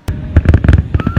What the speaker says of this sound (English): Boy, if you don't watch these fireworks.